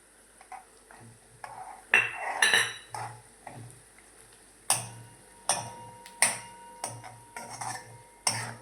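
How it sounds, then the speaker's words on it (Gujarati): Half-crushed roasted peanuts tipped into a pan of dry fasting-style potato sabzi, giving a run of sharp metallic clinks and scrapes of a spoon against the pan, close and fairly loud, with a steady low hum underneath. "હવે આપણે સિંગદાણા નાખી દઈશું અધકચરા કર્યા છે ને શિંગદાણા"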